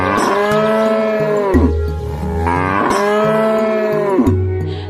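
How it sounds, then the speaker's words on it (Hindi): A cartoon cow moos loudly in fear, two long, drawn-out bellows with strong harmonics that slide down in pitch, close and prominent, with no talking. "कपिला गाय डर के मारे जोर जोर से रंभाने लगती है।"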